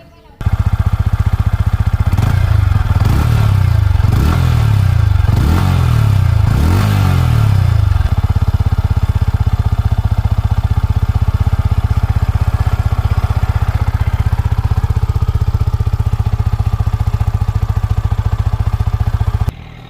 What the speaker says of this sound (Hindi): सो गाइज आप लोगों ने इसका एग्जॉस्ट नोट सुना